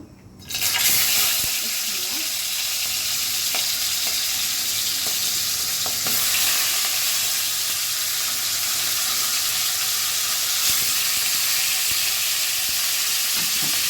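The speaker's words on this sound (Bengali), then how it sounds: "তেলাপিয়া মাছের মাথা রান্না করব" Tilapia fish head, salted and coated in turmeric, fries in hot oil with a loud, steady sizzle that carries on without a break. Faint clinks of stirring and handling sit under the frying, and nobody speaks.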